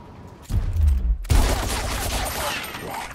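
Burst of video game gunfire in a mission set at the Hidden Forge, starting abruptly after a short lull and continuing as a dense, loud volley of shots with a second sharp onset partway through.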